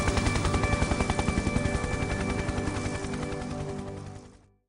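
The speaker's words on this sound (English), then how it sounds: "The chopping of their helicopter blades will forever be the soundtrack of the Vietnam War." Loud, rapid rhythmic chopping of military helicopter rotor blades, close and steady, fading out abruptly near the end.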